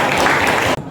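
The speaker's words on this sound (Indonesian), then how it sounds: "Tepuk tangannya dong." Short burst of classroom applause in a university biology teaching practice lesson, dense clapping that cuts off abruptly near the end.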